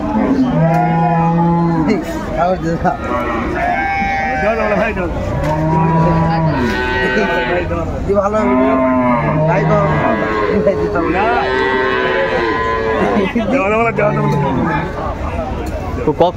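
Cows and calves at a busy village cattle market give repeated long, loud moos one after another, heard close up over steady background chatter and talking.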